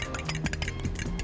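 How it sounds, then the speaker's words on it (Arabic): An egg is beaten in a bowl with quick, rhythmic clinks and taps, close and fairly loud, over a very short stretch. "هضرب البيضة بتاعتي كده اهو يا دوبك"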